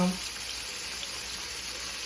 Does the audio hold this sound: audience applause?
no